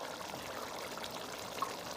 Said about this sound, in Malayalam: ആ വെള്ളം തന്നെ ഒഴിച്ചു